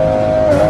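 Toyota Supra car in a video game driving over a pothole, heard as a brief, steady engine drone with a sustained tonal hum and a slight bump near the end, loud and close.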